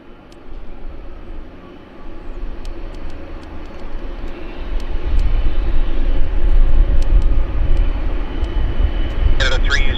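A heavy jet airliner at Vancouver airport rumbles steadily and builds to a louder low roar as it passes, with faint radio chatter and voices in the background.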